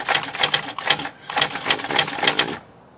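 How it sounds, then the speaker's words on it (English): An electric daisy-wheel typewriter fitted with a 12-pitch wheel types in quick bursts of sharp clacks with a brief pause partway through, close up, before stopping. "we're just going to type in, that's a 12-pitch wheel, so it should be 12 spaces per inch."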